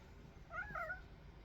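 A calico cat gives a short, soft meow at close range, a single brief call over faint room noise.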